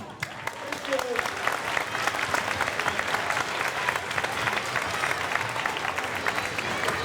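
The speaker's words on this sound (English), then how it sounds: "Let's give them a big round of applause." An audience at a public school band festival gives a sustained round of applause, a dense, even wash of many hands clapping that continues steadily throughout.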